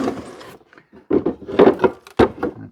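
An old wooden drawer scrapes and knocks as it is pulled and handled, giving a series of dry rubbing and thudding sounds close by.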